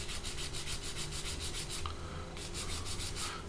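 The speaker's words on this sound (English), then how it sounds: "I'm just going to sand them off" Locating pegs on a plastic model kit being sanded off, a close rhythmic rasping scrape in quick regular strokes with a short pause partway through.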